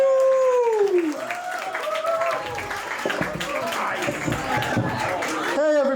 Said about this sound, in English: Please give a huge, warm round of applause to Mr.